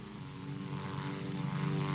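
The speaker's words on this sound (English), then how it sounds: "But maybe they saw a plane back there." A propeller airplane drones steadily overhead with a continuous low engine hum, moderately loud and unbroken, with no voices.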